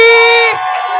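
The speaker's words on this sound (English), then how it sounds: "Give it up for our next poet, Nicole Tracy." At a poetry slam, the audience greets the next poet with a loud, sustained whoop lasting about half a second, followed by a softer crowd murmur.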